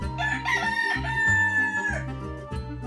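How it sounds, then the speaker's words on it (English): Rooster crowing in a children's farm-animal sound sequence, a series of loud, close cock-a-doodle-doo calls repeating through the whole stretch with no other sounds. "Rooster."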